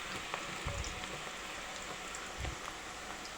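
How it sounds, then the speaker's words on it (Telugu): Cabbage pakoda batter deep frying in hot oil, a steady close hiss of bubbling with a couple of louder crackling bursts, no voices. "మంచిగా మిక్స్ చేసుకుని ఆయిల్లో డీప్ ఫ్రై చేసుకుందాం."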